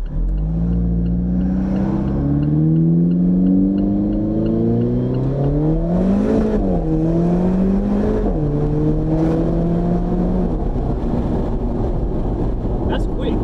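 An Alfa Romeo 4C accelerates hard, its engine note climbing steadily in pitch, dropping briefly at gear changes, and climbing again, loud and close from inside the cabin.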